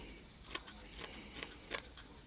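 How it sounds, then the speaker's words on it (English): Scissors snip around the edges of a piece of bonsai pot screening mesh, trimming it to fit the pot's bottom; three or four short, crisp cuts sound close up in a quiet room. "That one's just a little too big, so I'll just trim the edges"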